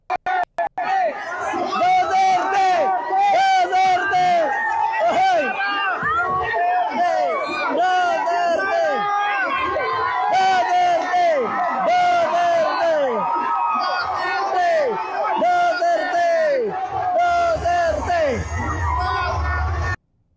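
A large crowd cheers and shouts for VP Sara at an event. Dense rising whoops and chatter run steadily for the whole stretch and stay loud and close throughout.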